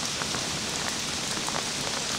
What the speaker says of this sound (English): At least it's a warm rain.